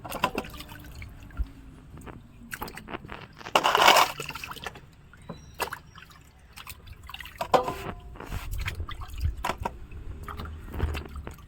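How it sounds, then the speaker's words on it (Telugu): Sweet potatoes being washed by hand in a bowl of water, with scattered drips, small splashes and sloshing close by; one louder splash about a third of the way through, no talking. "ఇలా ఒక బౌల్లో వాటర్ పెట్టి కడుక్కుని"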